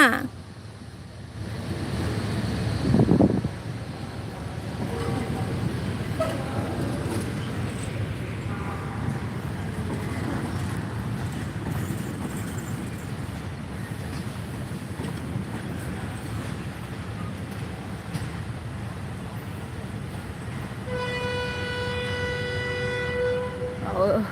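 A train rumbles slowly into platform five at Bangkok's Hua Lamphong station in the morning, with a steady low roar and screeching wheels, a horn sounding near the end, amid echoing platform ambience.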